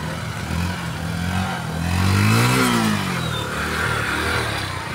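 A motorcycle engine revs while pushing through typhoon flood water, a rough mid-pitched drone that swells to a loud surge near the middle and settles back, over a wash of water noise.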